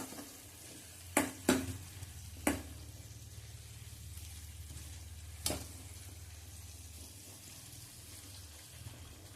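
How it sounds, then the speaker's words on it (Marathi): Soft sizzle of dal stirred into hot tempering in a pan, quiet and steady under a low hum, with a few sharp clicks of the spoon against the pot early on. "हे पाणी डाळ घातली की थोडंसं त्या फोडणीत आपण हे हटवून घेणार आहे"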